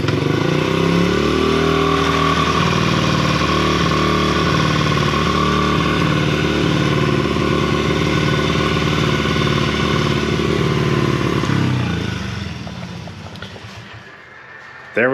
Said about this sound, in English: Original carb is back in. We're gonna try a fresh startup.